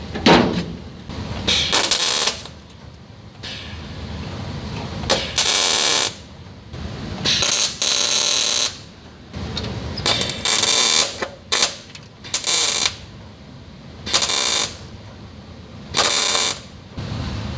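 MIG welding on a 1969 VW bus during restoration, a series of short, loud buzzing crackle bursts separated by brief pauses, close and harsh, with a low background hum between welds.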